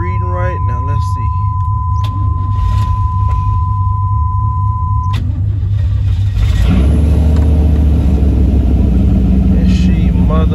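A 1991 Chevrolet Camaro RS cranks and fires, its engine rumbling loudly as a steady idle takes hold partway through, with an electric whine from the fuel pump beforehand and someone talking excitedly over it.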